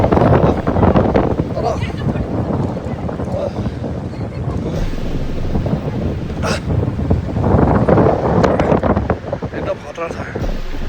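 Strong wind buffets the microphone on a high, exposed hiking spot in Tennessee, a steady roaring rush that swells and eases, while people talk over it.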